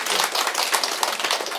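Audience applause for a teacher at a Korean exam-success presentation, a close, dense patter of many hands clapping steadily throughout the short stretch.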